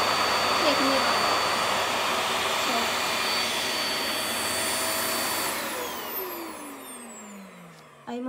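A VAX Air Stretch Pet Max cordless vacuum cleaner roars steadily with a high whine, then winds down as it is switched off.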